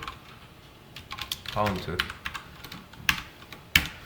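Someone types on a computer keyboard while writing a SQL query, producing close, irregular key clicks with a couple of sharper taps near the end, and someone speaks over part of it.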